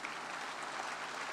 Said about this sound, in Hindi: a big round of applause as we release this special publication